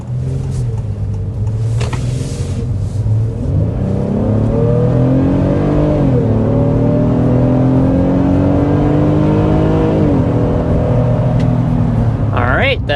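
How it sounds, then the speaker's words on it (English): A 2026 Honda Pilot EX-L with a V6 accelerates hard up to 60 mph, engine note climbing steadily through rising gears with brief shift dips, loud and continuous from inside the cabin. "first we need to start with a hard acceleration so you can see what this V6 is all about"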